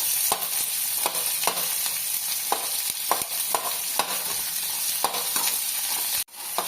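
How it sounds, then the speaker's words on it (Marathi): Onions for an egg masala fry are roasted in a pan with a constant bright sizzle. A spatula scrapes and stirs in regular strokes about once a second, and no one speaks. "आता हा कांदा चांगला भाजत आलाय"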